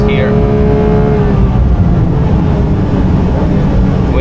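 A Porsche 992.2 GT3 race car on a track in Dubai slows hard under braking, its engine note dropping with a steady loud roar of road and wind noise from inside the cabin.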